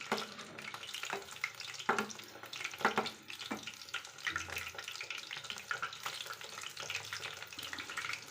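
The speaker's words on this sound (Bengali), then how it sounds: "একদমই আস্তে আঁচে আমি ভাজি এবার একটু গ্যাসের ফ্লেমটা আমি বাড়িয়ে দিচ্ছি" Chicken pakoras sizzle in hot oil in a pan over a gas flame, a faint steady crackle broken by occasional sharper pops and clinks of a utensil.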